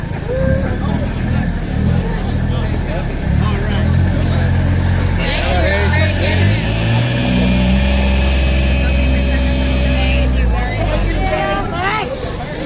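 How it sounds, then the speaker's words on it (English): Truck engine passing along a busy street in Salem, Massachusetts, a loud low rumble that swells and fades over several seconds amid crowd chatter and nearby talking. "There's a truck."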